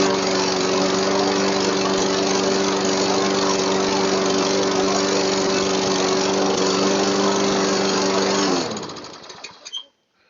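2003 Craftsman walk-behind lawn mower with a Tecumseh engine running at a steady loud drone, close by, then cutting off abruptly near the end and sputtering to silence.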